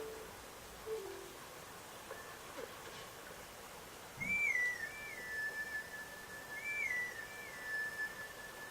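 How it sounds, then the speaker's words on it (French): Thin, pure whistled melody from a grass-blade plant in Zelda: Twilight Princess, a few short rising and falling phrases played faintly over a steady ambient game background. "Tu veux bien cueillir une de ces plantes et siffler un air pour Epona"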